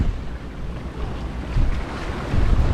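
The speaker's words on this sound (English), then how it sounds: "Beautiful blue skies, beautiful wind, beautiful weather, beautiful sailing." Sailboat under way on the Kattegat sea, steady wind buffeting the microphone over sloshing waves and hull noise, a constant close rush with no talking.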